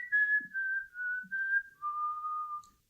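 Whistling from a 1999 cabaret music piece, a clear solo melody of a few held notes that drift gently downward in pitch, close and fairly quiet, with no voices.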